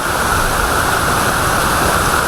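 KP Waterfall near Khopoli, one of many cascades: a loud, steady roar of falling water, continuous and close, with no other sounds standing out.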